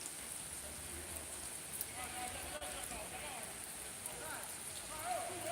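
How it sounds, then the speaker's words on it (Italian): Steady rain falls onto a street, heard from beneath sheltering porticoes as an even, hissing wash of drops with faint scattered patters and a low background rumble. "si è messa a piovere e sono scappato"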